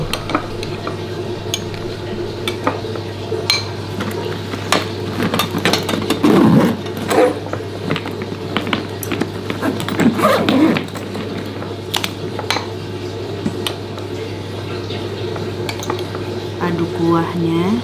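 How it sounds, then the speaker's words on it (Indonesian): A spoon stirs meatball bakso soup broth in a bowl, making scattered clinks and soft sloshes against the dish, with a voice talking over the stirring. "Kita aduk-aduk dulu kuahnya."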